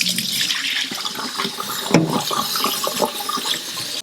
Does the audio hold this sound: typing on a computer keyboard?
no